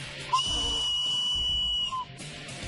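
A handmade whistle, its top shaved to form an air channel, gives one steady, piercing tone for about a second and a half, close and loud, with faint background noise around it.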